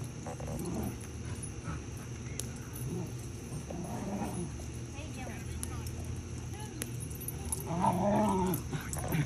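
Several dogs play together outdoors near a bonfire, with scattered yips, whimpers and low growls mixed under frequent family chatter and background noise.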